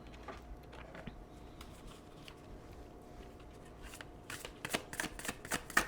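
A tarot card deck is shuffled at close range, its quiet riffling and soft slaps growing busier and louder toward the end, with no one talking.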